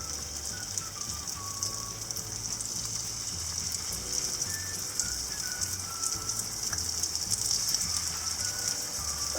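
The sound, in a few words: prawns shallow frying in hot oil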